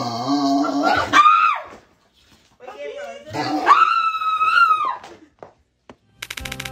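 Dog yelping and whining in two long, loud, rising bursts separated by a pause, like a panicked cry caught on camera.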